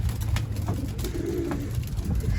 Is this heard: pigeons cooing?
yes